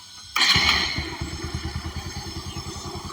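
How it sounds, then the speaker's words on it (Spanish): A 2014 Bajaj Pulsar 180 motorcycle, which has a lighting fault, fires up abruptly after a short quiet moment and then settles into a steady, rhythmic, close-up idle thump. "Entonces vamos a prender la moto de nuevo"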